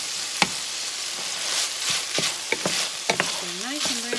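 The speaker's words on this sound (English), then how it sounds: "Over here, the sausage is just about finished. Really getting brown good." Mild Italian sausage fries and browns in a pan for a sausage goulash, a steady close sizzle broken by scattered clicks and scrapes of stirring, with no talk.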